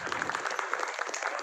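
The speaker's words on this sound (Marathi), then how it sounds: "जोरदार टाळ्या होऊन जाऊ द्या" Audience at a 75th birthday celebration applauding, with many distinct hand claps in a quick, fairly even rhythm, moderately loud and close.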